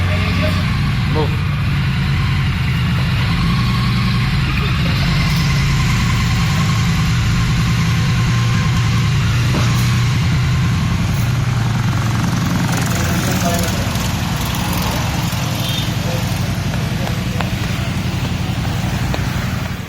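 A Triumph Street Twin motorcycle engine runs steadily and loudly throughout, a continuous low rumble with no break.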